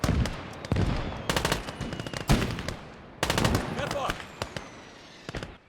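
An MG34 machine gun in a WW2 real-time strategy game fires several loud rapid bursts separated by short gaps, with sharp cracks and echoing tails and a voice speaking faintly underneath.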